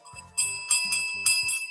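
A cat's small bell rung in short bursts, three or four bright metallic jingles with brief gaps between them, close and clear with no talking.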